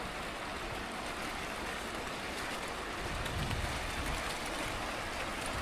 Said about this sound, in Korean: 이 물소리만 들어도 절로 힐링이 되는 것 같아요